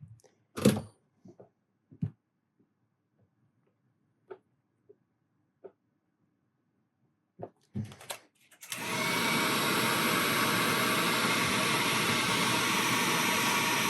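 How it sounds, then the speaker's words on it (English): A heat gun blows a steady, loud roar of hot air onto chrome vinyl wrap on a Pro Boat Recoil 2 model boat. It kicks in after several seconds of scattered handling taps and continues unbroken to the end. "Got the heat gun back about 18 inches or so. Nice, even spread out heat."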